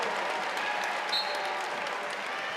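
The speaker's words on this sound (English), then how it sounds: "Anya Poole in and a big ovation." Ovation from the home crowd at a North Carolina Tar Heels women's college basketball game, a steady roar of applause and cheering filling the arena for the whole moment.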